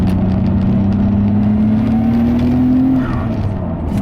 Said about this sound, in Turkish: VTEC owners yo! VTEC kicks in!